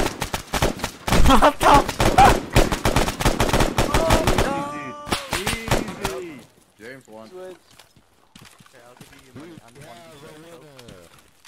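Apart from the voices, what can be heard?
gunfire in the video game Arma 3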